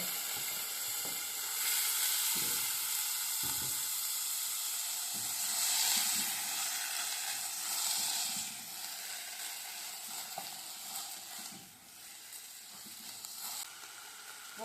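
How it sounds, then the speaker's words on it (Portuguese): Washed rice hits a hot pan with seasoning and sizzles loudly and steadily, a bright frying hiss with soft stirring scrapes throughout, no talking. "E agora eu vou acrescentar o arroz já lavado."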